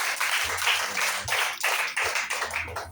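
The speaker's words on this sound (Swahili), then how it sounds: "Pigie Yesu makofi." Congregation clapping for Jesus during a church prayer service, a steady run of sharp, rhythmic claps filling the room, loud and close, with no one talking over it.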